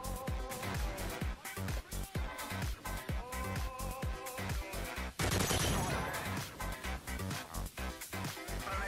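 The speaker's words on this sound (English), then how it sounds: "there must have been one person shooting me" Gunfire from a Modern Warfare 3 match, with repeated shots in a quick, uneven rhythm and a burst of louder fire near the middle, all over dense background game sound.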